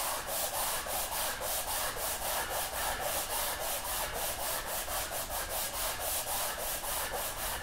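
Hand sanding of a wood surface with sandpaper, a steady run of close, rhythmic back-and-forth scratchy strokes, evenly paced and continuous with no talking.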